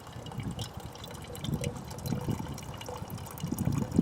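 Water squeezed by hand from a filter bag into a water bottle beside a lake, a soft uneven trickle and splash that swells toward the end, heard close with a faint outdoor background and no talk.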